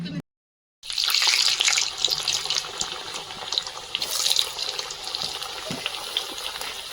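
Pieces of food deep-fry in a home kitchen pan of hot oil, making a loud, close, continuous bubbling hiss that surges and settles after a brief silent gap at the start, with no voices.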